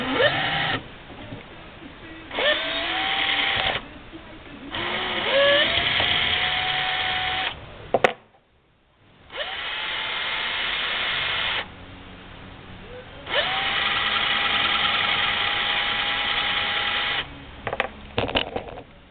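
Powered case trimmer cutting .44 Magnum brass cases: several whirring motor bursts, each rising to a steady whine, broken by short pauses and small metallic clicks as cases are swapped.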